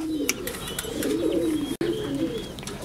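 Fancy pigeons at a breeding farm in Multan, Pakistan, including a Trumpeter Bukhara breeder pair, coo steadily in a low warbling drone, with faint chirps and a sharp click partway through.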